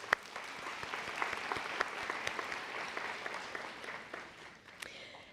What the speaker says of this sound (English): we need to give them a round of applause because this night also belongs to them.